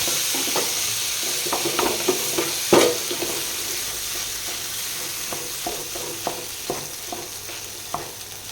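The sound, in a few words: mashing and mixing colocasia in a frying pan with curry leaves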